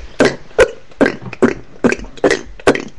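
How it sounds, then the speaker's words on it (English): A person doing hiccup-style burps, seven short, abrupt belches spaced evenly about every half second, close and fairly loud, with nothing else heard. "I had a request to do kind of like hiccup burps"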